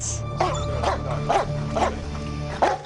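A dog barks repeatedly at a man wearing a bedliner-coated jacket, roughly five sharp, close barks spaced about half a second apart over a steady low background hum.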